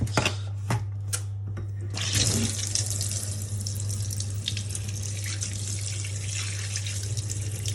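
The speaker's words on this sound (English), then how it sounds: "I've got my fish in the sink, just sitting there. I'm gonna leave some water in it." Tap water runs steadily into a kitchen sink holding a whole doctor fish, a continuous close splashing flow after a few brief drips and clinks at the start.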